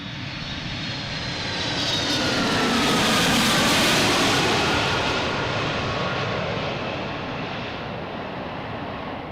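A Delta jet airliner out of LAX roars past, a broad loud rush that swells toward the middle and eases off slightly, steady and close with no voices over it.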